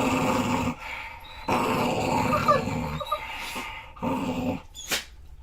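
A dog at play growls in several rough, close bursts separated by brief pauses, ending with a sharper yip-like sound.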